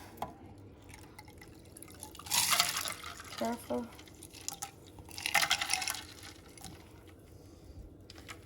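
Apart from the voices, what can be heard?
pouring ice water into pitcher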